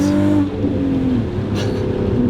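VW Golf R32 V6 with a catless factory muffler exhaust, a loud close engine drone with a rising then falling rev, brief and alone.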